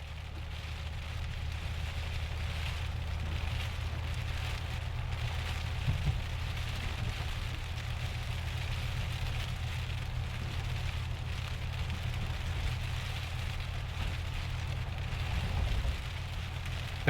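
Steady rain falls in the southeastern hills of San Diego, an even, unbroken wash of hiss over a low rumble that holds at the same level throughout.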